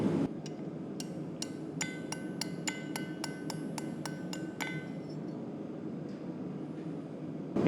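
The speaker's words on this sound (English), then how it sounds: "what I'm gonna do is I'm gonna use my ball peen hammer, half on, half off hammer blow," A ball peen hammer strikes steel on an anvil in a blacksmith's shop, half on and half off the edge to chamfer it, giving a run of about fifteen bright, ringing metallic blows at a steady rhythm, close and clear, then a quieter stretch.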